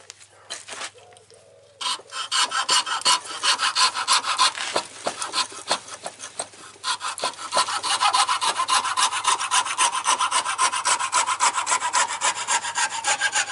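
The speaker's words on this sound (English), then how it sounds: "A coping saw is very useful to have here" A coping saw cuts through a knife-making workpiece in quick back-and-forth strokes, a close, raspy rhythmic rubbing that starts with a few tentative pulls, pauses briefly, then settles into steady, loud sawing.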